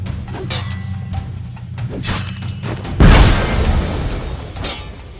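A bomb blast in The Witcher 3 erupts as one sudden loud burst with a heavy low boom and scattering crackle, then a rumbling tail fading under quieter game ambience.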